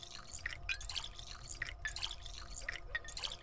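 Water drips steadily in a dark, echoing space in the video game Pathologic 2, a string of small clear plinks falling at an irregular pace over a low, quiet ambient hum.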